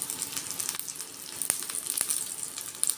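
Fenugreek seeds and curry leaves sizzle in hot oil, a faint, hissy crackle with scattered sharp pops and a few light clicks, steady and unaccompanied by speech.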